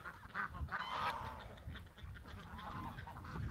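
Ducks or geese calling nearby, a few short honks and quacks bunched near the start, followed by quieter rustling and low murmur, faint overall.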